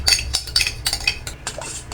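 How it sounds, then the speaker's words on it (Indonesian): Utensil clinking and scraping against a bowl while colored steamed layer cake batter, tinted with food coloring, is mixed; a quick series of bright metallic taps and swishes, close and fairly loud, with no talking. "Dan kita aduk-aduk."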